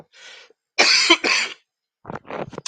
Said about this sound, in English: It's just cough is not going away.